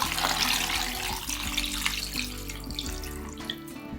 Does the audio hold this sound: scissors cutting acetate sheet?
no